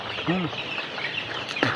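Broiler chickens on a farm let out a few faint, brief clucks against steady background noise.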